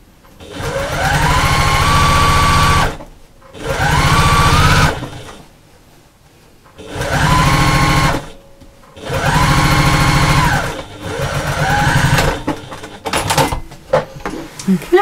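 A sewing machine fitted with a walking foot stitches the short ends of a slouchy bag in four loud, steady runs of rapid whirring, separated by brief quiet pauses.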